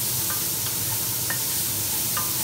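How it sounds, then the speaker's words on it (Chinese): Onions stir-frying with bacon in a pan for homemade bacon jam, a steady close sizzle with a few light scraping stirs and no talking. "透过洋葱喺呢度咁样炒啦"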